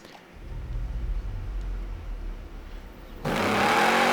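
A 2012 Shelby GT1000 in Forza Horizon 4 accelerates on a top speed run: a low rumbling engine drone that builds, then a sudden loud surge of roaring, rushing noise near the end.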